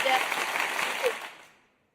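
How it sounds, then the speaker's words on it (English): Audience applause following a cake presentation, a dense wash of clapping that holds steady at moderate loudness, then fades out over the last half second. "come on, guys, applaud"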